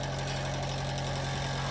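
Bench grinder running steadily in a woodturning workshop, a loud continuous motor drone with a low hum and rhythmic vibration, alone and unbroken.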